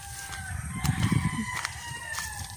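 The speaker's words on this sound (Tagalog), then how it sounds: "Nakakainis na talaga itong manok na to." A chicken clucks in short bursts nearby, over quiet background hum and faint high-pitched tones.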